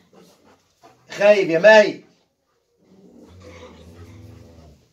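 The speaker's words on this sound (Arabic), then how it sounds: "طبعا الكلب اهو" A young dog on a farm gives a short burst of growling, barking vocalizations, loud and close, then quieter rumbling and panting follow; a person speaks briefly in the clip.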